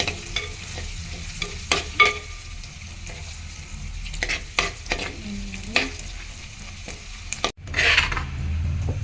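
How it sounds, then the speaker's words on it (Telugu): Ginger frying in hot oil for a mutton curry, a steady close sizzle under repeated scraping strokes of a spoon stirring the pan, with one brief sharp cut-off near the end. "అల్లం అనేది నూనెలో ఫ్రై అయింది"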